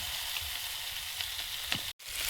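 Spring onion stalks (peyaj koli bhaji) frying in a pan, with a loud, constant close-up sizzle and a few faint stirring scrapes, cut off abruptly near the end.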